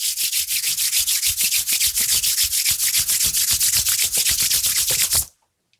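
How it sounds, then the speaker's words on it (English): Palms rubbed briskly together during a guided yoga nidra meditation, a close, steady swishing friction repeated in quick even strokes for about five seconds, then stopping abruptly into silence. "gently begin rubbing the palms together"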